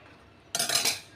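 Semiya milk sweet being stirred in a pot, a burst of spoon-on-metal scraping and clinking that starts abruptly halfway through and carries on steadily, close and fairly loud.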